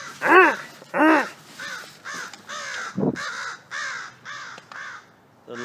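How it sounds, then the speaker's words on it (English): Repeated harsh caws from a crow, loud and close, with two strong calls at the start followed by a run of shorter raspy calls and a low thump between them, no speech. "Oh, this crow is so annoying."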